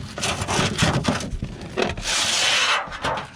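A handsaw trims a wooden fascia board for an attic bat-proofing job, with rapid rasping strokes followed by a longer steady grinding pass, close and loud with no talk.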